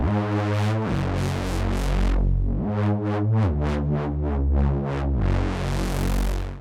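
A thick, detuned Reese bass made in Serum plays sustained notes with a gritty, phasing growl, pausing briefly between phrases and then returning with pulsing, filtered sweeps.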